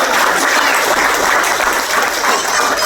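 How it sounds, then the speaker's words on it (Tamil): Audience at a property-investment gathering bursting into sustained, loud applause, a dense even wash of many hands clapping for about three seconds. "கைத்தட்டி கொடுக்கலாமா?"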